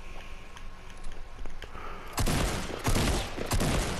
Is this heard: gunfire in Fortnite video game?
yes